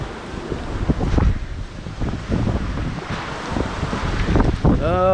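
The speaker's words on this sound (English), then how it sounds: "The wind is really, oh my God. It's really strong." Strong typhoon winds buffet the microphone in Naga City, Bicol, Philippines, a continuous loud roaring rumble with surging gusts throughout, no speech over it.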